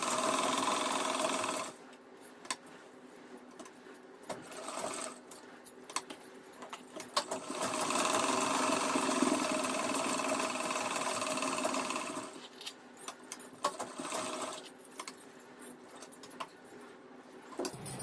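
A sewing machine stitches lace fabric onto dress sleeves cut from a saree. Long, steady runs of close, rapid whirring stitching alternate with brief pauses and small handling noises, with no speech.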